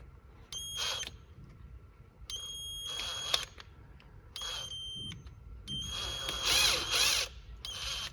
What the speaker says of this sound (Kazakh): Ол үшін мен шуруповертті қолданам.